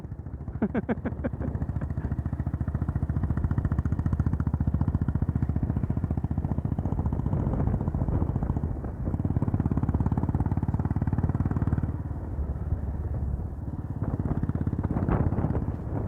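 A motorcycle engine drones steadily at close range on a Munnar mountain road, rising and falling as it rides on, with brief clattering and wind noise.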